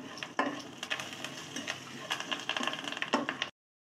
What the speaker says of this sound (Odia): ପକେଇକି ଆକୁ ଆମେ ଭଲ ଭାବରେ ଭାଜିବା